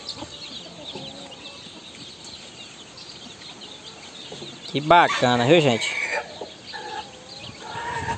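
Free-range caipira chicks, including frizzled and short-legged ones, clucking and cheeping while scratching in a pen, with a burst of loud calls midway and steady farmyard background under a person's talk.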